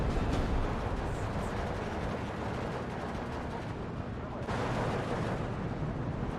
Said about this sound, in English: And those artillery pieces are causing problems.